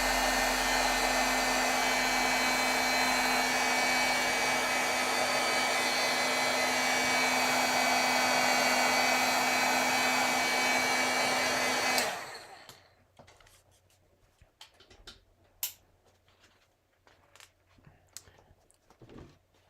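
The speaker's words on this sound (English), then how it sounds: "Let's heat set those altocumulus impressions a little." A heat tool setting stamped ink impressions on paper blows with a loud, steady whooshing hum for about twelve seconds, then switches off, followed by faint scattered taps and rustles.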